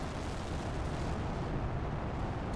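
Rockets lifting off in the survival game The Planet Crafter, including tier 2 magnetic field and asteroid attraction rockets, make a steady, loud, dense rumbling roar that continues without a break.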